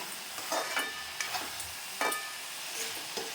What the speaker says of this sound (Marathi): वाटण टाकण्याआधी ह्या भाज्यांबरोबर मसाले देखील परतून घ्यायचे आहेत.